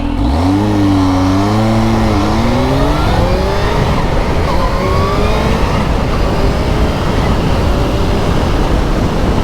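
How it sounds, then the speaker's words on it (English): A motorcycle with electronic throttle pulls hard under clutchless shifting, its loud, close engine note climbing steadily in pitch with a quick dip at a gear change before rising again. "Here, I do a quick pull here of clutchless shifting just before we finish."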